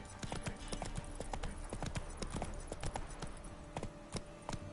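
Steady clip-clop of horse hooves trotting in The Witcher 3 video game, a brisk regular rhythm, loud and close, with faint game ambience behind it.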